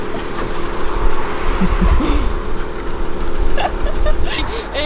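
A dog out on a walk gives a few short yips and barks amid loud outdoor wind and traffic rumble, with a passing car or bus in the background.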